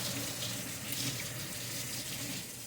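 Tap water runs steadily into a sink while a sponge is rinsed, a close, even splashing rush that carries through without pause.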